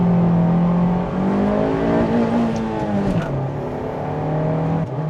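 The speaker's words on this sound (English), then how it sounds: "We are revving up to 4500 RPM and slowly releasing the clutch" A car engine held at about 4500 RPM for a clutch-release launch drones loudly and steadily, its pitch rising and dipping slightly as the revs are held and then eased, close and continuous throughout.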